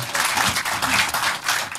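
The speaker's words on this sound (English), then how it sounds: "can we have one more round of applause for Miranda" A live stage audience gives a guest a round of applause, a dense, loud burst of clapping filling the whole stretch, with faint voices mixed in.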